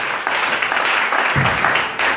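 Church congregation applauding during a service, a steady dense wash of clapping from a crowd in a hall, fairly loud and unbroken.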